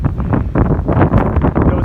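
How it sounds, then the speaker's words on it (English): Cold, gusty wind blows in the Smoky Mountains on the Appalachian Trail, loud buffeting rumbles and rushes hitting the microphone in uneven surges throughout. "you can hear the wind. Without a doubt, cold, very cold wind, 20, 15 mile per hour wind gusts, at least."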